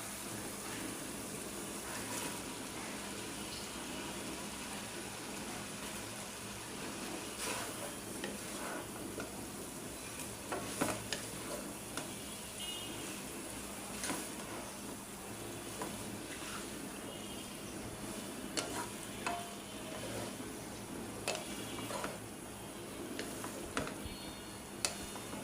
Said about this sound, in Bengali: এখন আমি চাউমিন দিয়ে দিই।